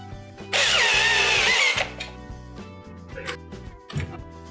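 A power drill drives screws tight on a GE refrigerator ice-maker solenoid kit, a loud whirring burst lasting about a second over a background hum, followed by faint handling clatter.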